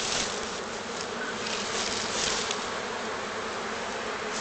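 Many black honeybees buzz around hive frames in a dense, continuous drone close by, a steady hum with occasional louder passes.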